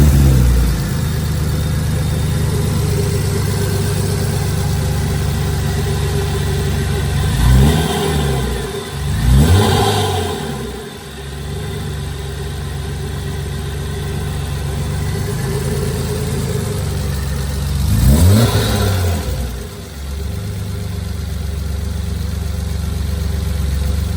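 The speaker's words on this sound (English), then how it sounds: "Let's show you how the car runs." A supercharged BMW E30 M3 with a fully rebuilt S52 engine runs at a steady, loud idle, then revs sharply three times, each rise and fall clear and close, with no talk.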